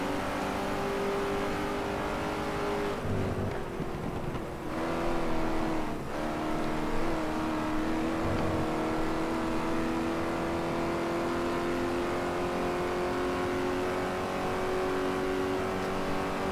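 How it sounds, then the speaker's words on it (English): The small Lotus Cortina engine in the GT Legends racing game drones steadily under throttle, its note shifting slightly as the car pulls away down a straight; the sound stays fairly faint and continuous, with no talking. "So nice to hear the sound of that little Lotus Cortina just get fainter and fainter and fainter as you pull further and further away down the straightaway"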